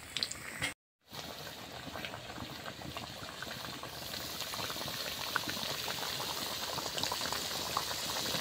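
Gram flour battered bread chops fry in hot oil with a steady, close bubbling sizzle that swells slightly after a brief silent gap near the start.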